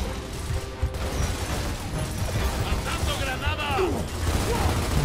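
Dense, rumbling gunfire in the Gears of War video game keeps up a continuous loud barrage with crashing impacts and mechanical clatter, no voices.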